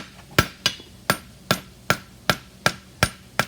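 A hammer strikes metal on an anvil while fullering hot stock at a forge, giving eight sharp, evenly spaced blows with brief ringing decay, close and loud with no talk.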